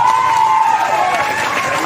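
An audience at a tea-garden workers' gathering in Duliajan bursts into loud, dense applause and cheering during a political speech, a continuous roar of clapping and voices filling the short stretch.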